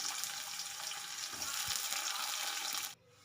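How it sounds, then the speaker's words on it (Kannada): Onion and tomato fry in oil with mustard seeds for a bitter gourd stir-fry, a steady close sizzle with a brief stir before it cuts off abruptly near the end. "ನಾನು ಈರುಳ್ಳಿ ಟೊಮೊಟೊ ಅದನ್ನು ಒಟ್ಟಿಗೆ ಹಾಕಿ ಫ್ರೈ ಮಾಡ್ಕೊಳ್ತೀನಿ"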